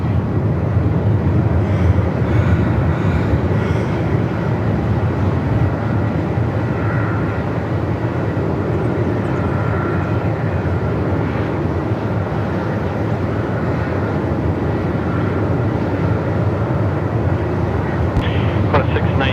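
Qatar Airways Boeing 777 on short final landing at Melbourne Airport in strong wind, a loud continuous roar of jet engines and wind rushing throughout, with talk over it.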